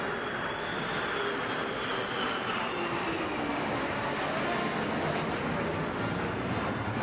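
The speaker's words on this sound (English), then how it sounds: "there behind them, the Lightnings, the F-35s" RAF F-35 Lightning jets flying over London in a centenary flypast, a steady broad roaring rumble with a slowly shifting tone, sustained and fairly distant, no talk.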